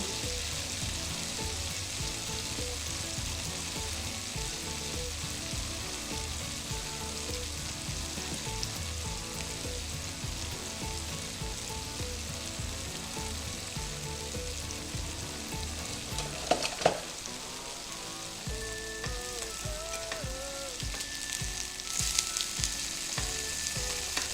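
Tofu frying in oil in a pan for stir-fried kimchi tofu, a dense steady sizzle and crackle that runs unbroken and close, with a brief clatter partway through and no talk.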